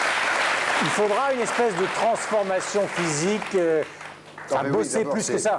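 A crowd claps steadily while someone talks over the applause, which thins out near the end.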